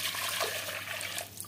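Water is poured into a pot of tomato sauce with sugar while cooking, a brief, soft, steady splashing stream heard close up with no talk over it.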